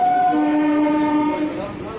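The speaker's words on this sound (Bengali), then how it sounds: "আমাদের ট্রেন এখন কাঁচরাপাড়া স্টেশন ঢুকছে।" A train pulls into Kanchrapara station on the Sealdah–Kalyani Simanta line, its horn sounding a long steady tone that then drops to a lower held blast, loud and close, with the rolling rumble of the carriages fading slightly at the end.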